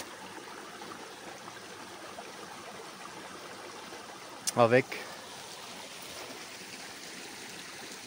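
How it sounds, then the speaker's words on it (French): A small stream by the ruins of an old abandoned village flows with a soft, steady rush, and a voice briefly speaks over it midway. "Nous avons le ruisseau ici."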